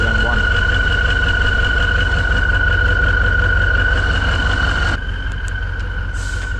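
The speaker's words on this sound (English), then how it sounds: "I like that engine noise a lot more than the K701." A V12 engine without a turbo, powering a machine removing an old maple stump, runs steadily and loudly close by with a constant drone, then drops slightly in level near the end.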